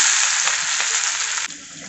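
Crushed garlic hits a pan of cooked whole masoor dal with a loud, close, steady sizzle, a stirring scrape partway through and an abrupt drop in intensity near the end.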